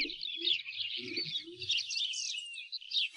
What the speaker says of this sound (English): There were now more birds twittering than ever before.